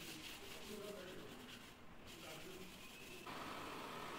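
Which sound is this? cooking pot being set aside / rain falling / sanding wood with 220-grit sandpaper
sanding wood with 220-grit sandpaper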